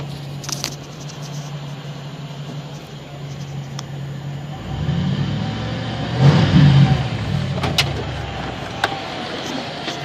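A 1995 Ford Bronco's 351W V8 with Gibson exhaust and a 3 1/2-inch tip idles with a low steady burble, then swells louder in a brief rev before settling back, heard from inside the vehicle.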